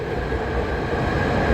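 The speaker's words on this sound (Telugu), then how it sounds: "బ్యాక్ సైడ్ మెట్రో వెళ్తుంది." A metro train in Kuala Lumpur passes behind the listener near the Petronas Towers, producing a steady, loud, low rumble with continuous rolling noise and no breaks.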